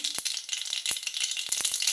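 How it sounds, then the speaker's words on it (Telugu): Mustard seeds splutter in hot oil while a ridge gourd curry is being cooked, giving a few sharp, irregular crackling pops over a steady bright sizzle. "ఇప్పుడు ఆవాలు అయితే చిటపట్లాడాయి"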